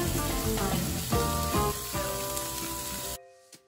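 Ground beef, onions, peppers and garlic fry in a pan with a steady, close, dense sizzle and crackle that stops abruptly near the end, leaving faint quiet tones.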